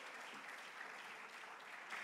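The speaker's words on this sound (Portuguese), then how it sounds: "uma salva de palmas para os nossos astros" Theatre audience applauding during a hypnosis comedy show, a continuous fairly faint patter of many hands clapping.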